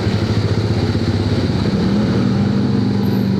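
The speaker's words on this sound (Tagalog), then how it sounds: "Grabe yung traffic" Congested road traffic on a ride from QC to CSJDM, with motorcycle and car engines droning loud and close in a steady, continuous rumble and no talking.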